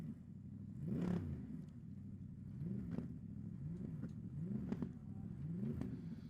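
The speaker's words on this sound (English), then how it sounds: "I'm just enjoying the sound of that Mercedes" A Mercedes race car at a 2017 New Zealand Endurance Championship shootout, its engine rumbling steadily with several rising revs, each swelling and fading, with no voices.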